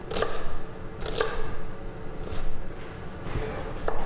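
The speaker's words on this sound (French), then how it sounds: "pour couper la brunoise, on coupe notre oignon en deux" A kitchen knife halves an onion on a cutting board for a brunoise, with several separate crisp cuts spaced about a second apart, close and moderately quiet.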